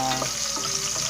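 Onions frying in a pan for Filipino beef-skin balbacua, a steady wet sizzle and hiss that runs unbroken, with faint watery crackles.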